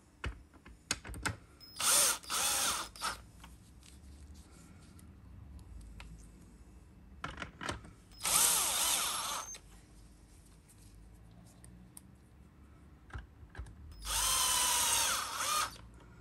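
A cordless power screwdriver drives three screws into the plastic cover of a Dyson DC25 vacuum yoke, giving three separate whirring bursts, each a couple of seconds long, with quiet clicks and handling between.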